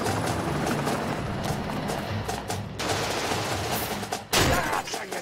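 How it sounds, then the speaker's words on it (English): Gunfire erupts in a rapid, sustained burst of loud automatic shots, close and harsh, with a brief drop near the end before another sharp blast. "Well, he shot me."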